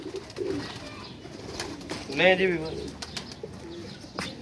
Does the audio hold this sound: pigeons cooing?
yes